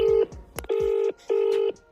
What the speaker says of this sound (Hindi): देखा भाई कटारे को लाइव फोन करेगा